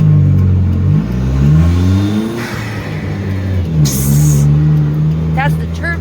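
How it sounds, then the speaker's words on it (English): Car engine revving hard as the turbo spools up, a loud rising then falling drone with changing pitch, heard under people talking in the cabin. "That's the turbo kicking in."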